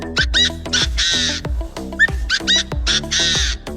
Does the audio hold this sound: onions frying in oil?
no